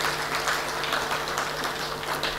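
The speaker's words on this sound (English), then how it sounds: "Can we clap for ourselves for that?" Quiet, sustained applause from an audience at the launch of Kenya's National Payments Strategy, an even spread of many hands clapping with a steady electrical hum underneath.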